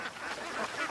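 Ducks out on a lake call steadily, with dense overlapping quacks at moderate distance and no pause across the short stretch.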